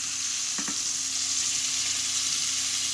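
Meatballs browning in hot oil in a pan, a loud, dense, steady sizzle close up, with a brief double clink of a utensil early on.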